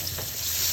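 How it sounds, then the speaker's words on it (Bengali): Fish fry in very hot soybean oil in a wok, a close, steady sizzle with no talk over it. "আমি প্রথমে খুব গরম করে কড়াই একটু লবণ আর সয়াবিন তেল দিয়ে দিয়েছি, তারপর মাছগুলো দিয়েছি"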